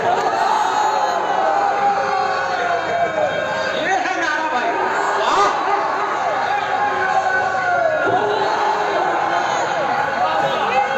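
A crowd at a naat poetry gathering in Ghosi chants a takbir slogan together, loud massed voices filling the space continuously with some whoops and hubbub, close and unbroken throughout.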